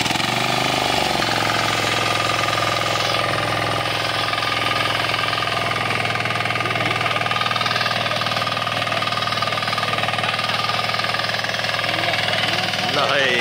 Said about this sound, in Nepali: यो खेत जोत्ने मेसिनले चाहिँ उहाँले अहिले जोतिरहनु भएको छ।